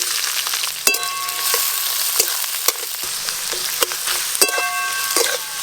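Chopped onion sizzles steadily in hot oil over whole garam masala, bay leaves and dried red chillies, a dense close frying hiss broken by a few sharp clinks of a utensil against the pan.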